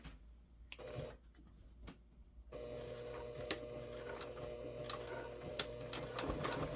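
A sewing machine stitches the corners of a Versa bag, starting with two brief stop-start bursts and then running in a steady, quick, faint stitching rhythm at close range.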